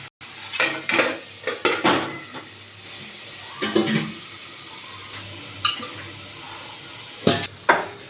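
A spoon stirs softened, salted onions in a pan for egg curry, giving close, intermittent scrapes and metallic clinks in irregular bursts over a faint background sizzle.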